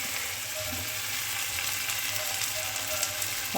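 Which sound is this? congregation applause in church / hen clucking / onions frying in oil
onions frying in oil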